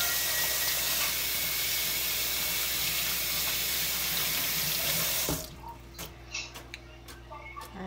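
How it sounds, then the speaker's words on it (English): Tap water runs steadily into a sink while hands are washed during cooking, a loud continuous splash that cuts off abruptly after about five seconds, leaving a quiet room with faint clicks. "Wash my hands again."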